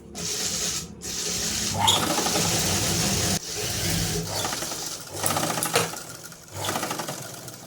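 A sewing machine runs a rough seam on a Punjabi dress skirt, whirring steadily in several bursts of a few seconds each, with brief stops between runs, close and without speech.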